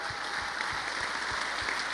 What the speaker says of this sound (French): Donc applaudissements encore